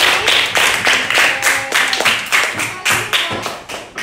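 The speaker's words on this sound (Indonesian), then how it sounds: "kasih tepuk tangan dong untuk kelompok tadi" A classroom group of students claps for a student group, a burst of quick, uneven hand claps close by that keeps up for several seconds without pause.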